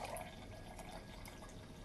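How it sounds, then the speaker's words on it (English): A fermented mango and ginger drink pours steadily into a container, giving a continuous close splashing, fizzing liquid rush with no talking over it. "We're going to see how it pour."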